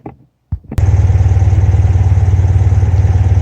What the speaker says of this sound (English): Engine's running, the fans are blowing. It's idling nicely.